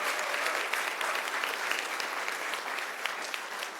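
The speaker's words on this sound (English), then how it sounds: "Give her a round of applause." Steady round of clapping from a crowd at a city commission meeting, honoring a teacher's 30 years of service; dense, even applause sustained throughout without talk.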